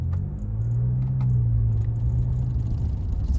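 Ford Ranger Raptor engine while driving in sport mode, a deep rumbling drone close up that swells in the middle then eases, with faint rattles on top.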